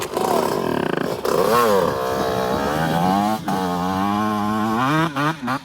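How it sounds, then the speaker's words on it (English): Several pit bike engines run together at a ramp session, a loud, close, continuous buzzing drone with wavering pitch as the small motors rev up and settle, with no talking. "Everyone start their bike."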